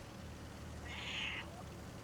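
A voice imitates a cat with a single short, mid-pitched meow rising over steady background hum, close and moderately loud.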